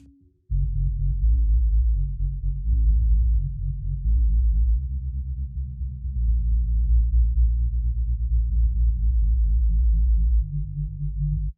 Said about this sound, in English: So basically we just have the sub frequencies here now, sounding like this.